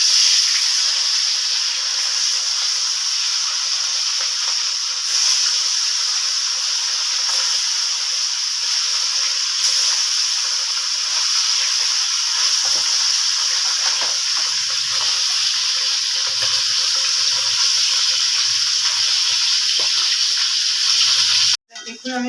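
Mola fish frying in hot oil in a kadai, a loud, continuous hissing sizzle that runs close and steady for about twenty seconds, with faint clatter toward the end before it cuts off.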